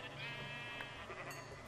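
A sheep bleats in the Minecraft video game, one short wavering bleat heard close and clear over a faint background hum.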